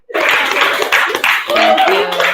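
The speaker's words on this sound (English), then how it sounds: "we should definitely clap for her" An audience claps for a woman at a CyberGirls open day event, a burst of applause that starts sharply and carries on steadily, with voices talking over it toward the end.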